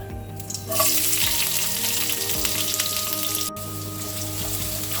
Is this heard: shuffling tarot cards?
no